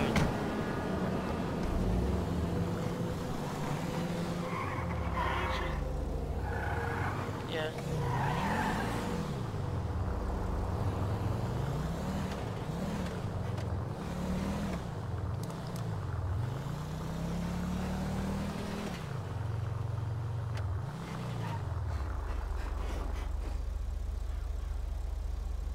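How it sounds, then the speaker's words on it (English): A car in GTA 5 revs up and down through repeated engine sweeps with tire squeals, loud and continuous, as the vehicle accelerates, shifts and slides along the road. "Now let's get into our vehicle and drive down the road."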